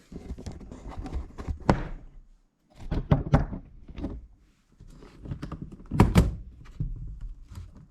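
Plastic knocks, thunks and rattles come in three short bursts separated by pauses as the cover is refitted on a DeWalt 60V electric chainsaw, close and fairly loud.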